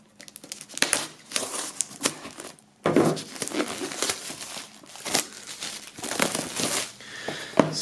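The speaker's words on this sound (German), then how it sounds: "wir werden das Ganze mal aus der Folie holen" Plastic shrink-wrap on an album bundle being pulled off and crumpled, a loud close crinkling that runs almost continuously with sharp tearing bursts and one brief pause partway through.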